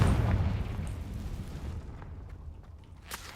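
A Confringo blasting spell from Hogwarts Legacy goes off in a heavy low rumbling explosion that is loudest at the start and slowly decays over a few seconds, with a small crackle near the end.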